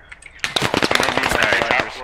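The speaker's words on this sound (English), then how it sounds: "Two shots coming from the east." Rapid bursts of automatic gunfire and single shots crack through a firefight in the military shooter Squad, loud and dense with a voice briefly audible underneath.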